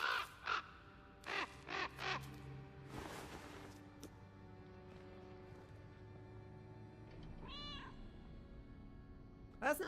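A crow cawing several times in a quick burst, then a softer call later, heard over faint game music.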